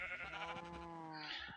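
A sheep in Minecraft gives a single drawn-out, wavering bleat with a strained, nasal tone, filling most of the short moment at moderate loudness with no one talking over it.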